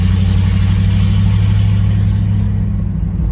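A Mercedes 300SEL 6.3 engine running with no exhaust while driving, a loud close rumbling roar with a steady throbbing low pulse throughout.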